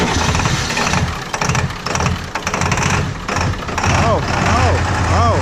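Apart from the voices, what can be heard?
Ford 7.3 diesel truck engine cranking and trying to start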